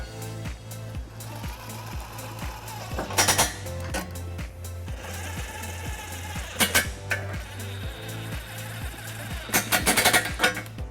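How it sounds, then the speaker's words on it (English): An 18mm socket on a ratchet tightens the existing nuts of a trailer hitch on a 2022 BMW X3. A steady, rapid, close-up clicking runs throughout, broken by a few louder metallic clanks. "we're going to tighten it up using an 18mm socket"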